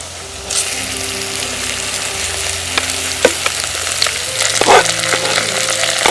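Squid frying in a pan in a Jaffna village kitchen, a loud continuous sizzle with occasional sharp pops and stirring scrapes, and a dog barking faintly in the background.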